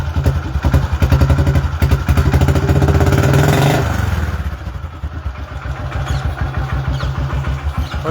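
A Royal Enfield Bullet motorcycle engine idles close up with a loud, rapid thumping beat that swells briefly as the throttle is blipped, then drops back to a steady, lumpy chug.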